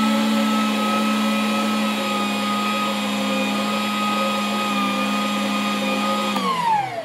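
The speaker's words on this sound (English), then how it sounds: "Turn off the mixer," An electric stand mixer runs steadily as it works cranberry biscuit dough, a loud, even motor whine with a strong hum that holds for several seconds before winding down at the end.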